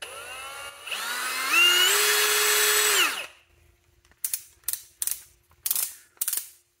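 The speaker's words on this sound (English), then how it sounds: "Nice rotation on the collar with audible and tactile clicks." A RIDGID R92081 hammer drill whirs and ramps up in pitch, stops, then its clutch collar is turned through a series of about six sharp, evenly spaced clicks.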